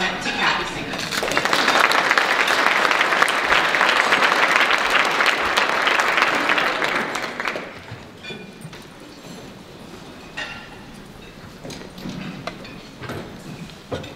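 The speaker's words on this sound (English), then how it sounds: "please join me in giving a round welcome of applause and welcome to Kathy Singer" Audience at a Big Data Summit lunch keynote applauding a speaker's welcome, a strong burst of clapping that swells, holds for about seven seconds, then fades to scattered claps and room sounds.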